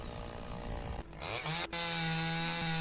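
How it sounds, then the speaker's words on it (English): A chainsaw in the lumberjacking game Lumberjack's Dynasty revs with a buzzing whine that dips briefly, then settles into a steady high idle drone, close and without talk. "Let's grab the chainsaw."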